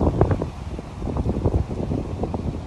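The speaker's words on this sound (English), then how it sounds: "Whoa, the wind." Steady outdoor wind rushes and buffets the microphone in uneven gusts, with low rumbling turbulence and no speech, at a site near Butler Memorial Pool in Butler City.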